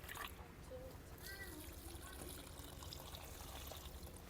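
Water is poured onto freshly planted garden plants, a soft trickling and splashing heard faintly and steadily, with a brief voice in the background.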